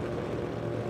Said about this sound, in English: Big burnout.